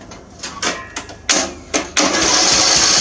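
A zero turn mower engine with a welded exhaust and no muffler turns over on a cold start, several loud sputtering bursts before it catches into a harsh, raw, continuous roar up close.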